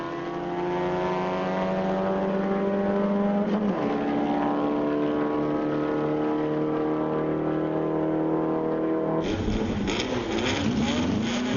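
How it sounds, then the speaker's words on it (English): A loud, high-revving drag racing car engine drones steadily with a brief pitch dip, then cuts to a harsh, roaring blast as the car launches hard into a wheelie at Bug Jam 2009. "it makes up for in hard launches. A full wheelie off the line"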